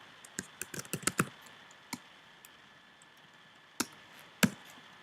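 Python code being typed on a computer keyboard: scattered, close key clicks in short bursts with pauses between, a quick flurry at first, then isolated taps over quiet room tone.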